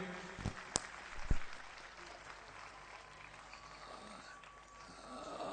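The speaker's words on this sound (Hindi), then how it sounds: "तालियां के साथ का स्वागत कीजिए" Audience applause at a stage performance event in Delhi, a faint, distant patter of many hands running throughout, with a few sharp louder knocks near the start and a voice briefly over it.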